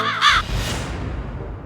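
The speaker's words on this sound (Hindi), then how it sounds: "का बोले रे कौआ, काव काव काव काव।" A crow caws twice at close range, harsh and loud, and the calls are followed by a short stretch of fading noise.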